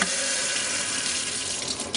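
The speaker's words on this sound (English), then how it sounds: "I'm gonna put some hot water into a bowl" Hot water from a kitchen tap runs steadily into a bowl, a continuous, fairly loud hiss and splash that holds even for the full two seconds with no voices.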